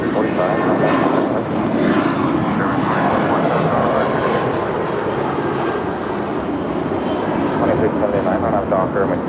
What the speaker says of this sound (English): That's Spirit Flight 2445 to San Jose del Cabo. 7-year-old A320.